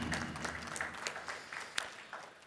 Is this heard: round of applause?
yes